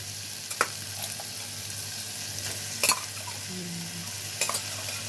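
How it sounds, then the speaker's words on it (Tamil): Onion, tomato and crushed crab legs sauté in a hot pan with a steady soft sizzle, broken by a few scraping stirs of a spoon against the pan. "வெங்காயம் தக்காளி இந்த நண்டு கால் எல்லாமே வந்து இந்த ஹீட்டில் நல்லா வதங்கட்டும்"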